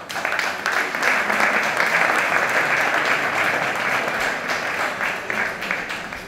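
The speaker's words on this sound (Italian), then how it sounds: "L'applauso della magistratura è di tutta evidenza, io sentivo che qua, l'applauso veniva da qua." An audience at a public talk on the state of justice in Italy in Arezzo breaks into sustained applause, a dense steady roar of clapping from a full hall with no talk over it.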